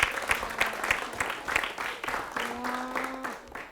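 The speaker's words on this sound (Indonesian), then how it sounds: "Maju dulu, tepuk tangan dulu." A school audience of students gives brief applause, a burst of clapping over a few seconds with voices mixed in.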